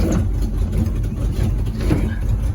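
A 1979-ish Chevy is driven on a rough ride, its engine running as a loud, continuous low rumble with road noise and jostling throughout, close up and without talk.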